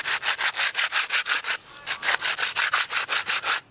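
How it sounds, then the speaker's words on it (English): Rhythmic back-and-forth rasping of sandpaper on wood, close and steady, with a brief pause before the rapid strokes resume. "I'm gonna take a piece of sandpaper and I'm gonna sand everything down."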